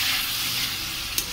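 Crab curry masala sizzling in a pan after a splash of water, a steady bright frying hiss with a faint stir click near the end, close and continuous with no voices.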